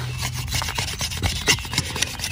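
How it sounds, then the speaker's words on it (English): A knife scrapes shavings from split wood, a close, quick series of raspy rubbing strokes with no talk. "So what I'm going to do is just do some shavings."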